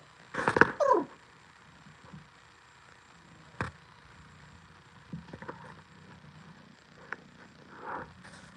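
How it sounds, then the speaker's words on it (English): A cat vocalizes indoors with a short, loud meow-like call near the start, followed by a few faint, scattered small sounds in a quiet room. "I love this cat's vocalizations."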